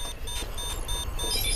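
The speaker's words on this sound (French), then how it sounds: "c'est le bruit de l'ordinateur qui m'a déconcentré" A computer gives off a brief series of thin, high electronic beeps that repeat at short intervals over a low background rumble; no voices are heard.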